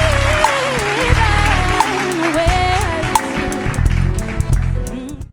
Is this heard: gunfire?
no